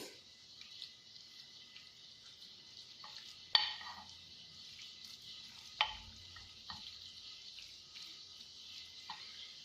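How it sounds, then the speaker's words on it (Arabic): Shredded chicken and almonds are mixed in a bowl with a spoon for Ramadan chicken-almond rolls. Faint soft stirring and scraping carries a few sharper clinks against the bowl, quiet and close. "دابا غادي نخلطهم مع بعضهم بحال هكا، وغادي نزيد عليهم اللوز"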